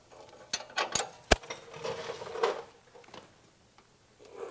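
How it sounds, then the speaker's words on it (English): Metallic ratchet clicks and clanks from a wrench working loose a heavily torqued nut on the suspension of a 2007-21 Toyota Tundra, a few sharp knocks then quieter scraping, close by with no talk. "I'll use the 22 to loosen the nut on the back"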